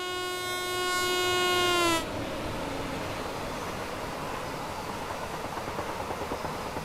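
A freight train with hopper wagons in Train Sim World 4 sounds a loud, sustained horn for about two seconds, then rumbles past with steady rolling noise and faint rhythmic clicking of wheels on rail joints.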